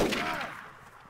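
Gunfire in the survival video game DayZ, a single sharp shot that rings out and decays quickly, fairly close, with no talk over it.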